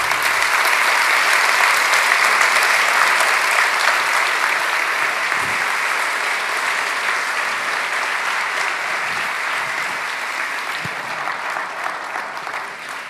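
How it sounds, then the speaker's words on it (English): A large audience at an education and skills forum claps steadily for over ten seconds, a dense, even roar of applause that slowly thins toward the end. "A big round of applause, please,"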